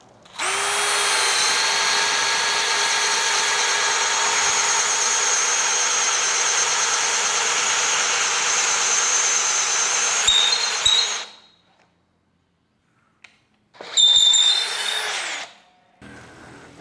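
A Tekiro XV 20V cordless drill fitted with a 19 mm auger bit runs at speed 1, a loud steady high whine for about eleven seconds, then stops; after a silent gap it starts again in a brief burst.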